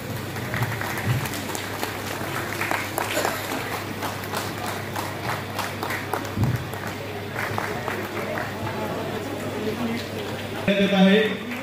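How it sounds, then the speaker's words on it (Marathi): Crowd applause at a Rotary Club Karad event in Maharashtra, a steady wash of clapping throughout with brief louder bursts near the end, mixed with murmuring voices. "जोरदार टाळ्या।"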